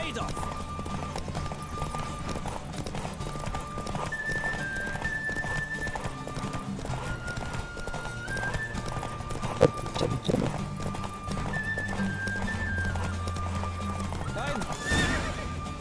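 A horse gallops in a race in The Witcher 3 with rhythmic hoofbeats and occasional neighs, set against game music and a voice talking over it.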